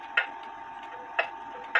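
An antique Benjamin Gray grandfather clock from Loughborough, opened up for repair, ticks three times in an uneven rhythm, each tick crisp and close over a faint steady hum.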